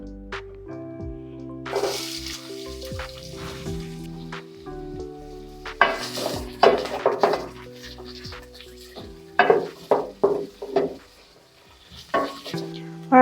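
Onions stirred in melted Kasuku cooking fat in a pot over a gas flame, giving a soft sizzle with scraping spoon strokes and clinks against the pot that come in bursts, under steady background music.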